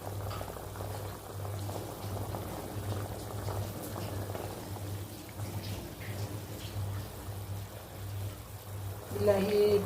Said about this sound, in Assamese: পানী দিয়াৰ পিছত অলপ উতলিবলৈ দিছোঁ মই